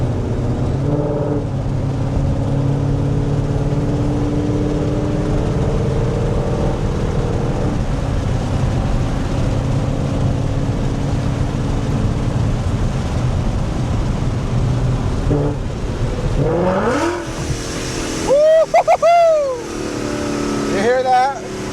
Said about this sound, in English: I think Mustangs are one of the best sounding muscle cars. Just so loud and raspy.